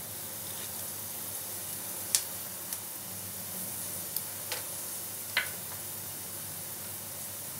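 Cumin and mustard seeds with chili crackle in hot oil for a chana dal tadka: a steady sizzle broken by a handful of sharp, scattered pops, close and fairly quiet.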